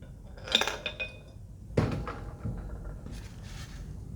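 Two steel balls drop into a clean speedy moisture tester, giving a pair of sharp metallic clinks and rattles, followed by lighter knocks of the metal container being handled, close and clear with no talk.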